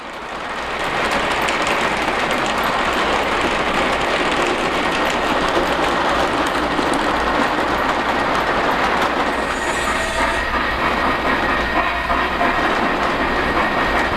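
Several Polar Express model trains and a trolley running on track, giving a steady, close rolling rumble with rhythmic clickety-clack from the wheels and occasional faint squeal, continuous throughout.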